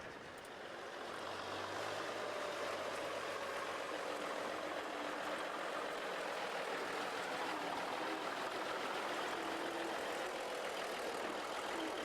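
Wright 1820 radial engines of a Boeing B-17 run steadily at close range, a loud, continuous rumbling drone that holds for about twelve seconds, with no talking.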